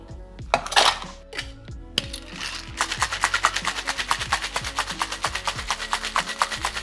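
Fifteen coffee beans dropped into a rum cocktail with orgeat and pineapple juice, first a few scattered clicks, then a rapid run of small hard ticks rattling against glass or metal, fairly close and clear.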